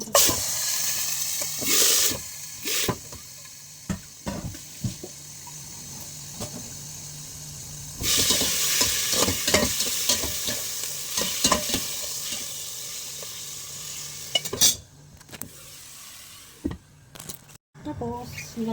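Olive oil sizzling and spattering in a pan while kabsa is cooked, a steady hiss broken by stirring scrapes and clatter, with someone talking intermittently over it.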